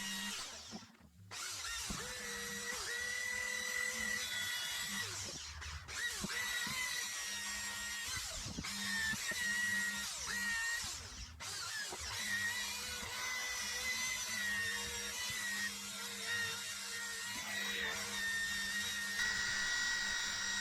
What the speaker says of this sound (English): just using a buffing wheel on a very old